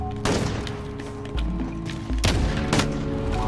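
A few sharp gunshots ring out in a Call of Duty Modern Warfare 1v1 match, with two or three distinct cracks and dull thumps over busy game noise.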